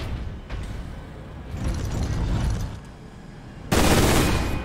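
A rapid-fire gun in Warhammer 40k Space Marine fires in sustained mechanical bursts. The firing builds mid-clip and ends in a loud, dense blast of shots.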